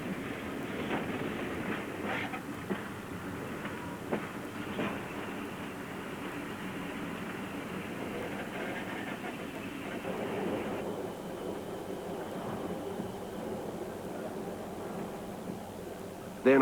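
The eastbound Indian Pacific passes on a long straight track across a featureless plain, with a continuous rumbling roll and repeated wheel clicks over the rail joints, heard steadily from nearby.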